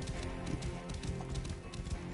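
A horse in Assassin's Creed Origins moves through sand, its hooves thudding in a steady run of soft, low beats under a dense game soundscape.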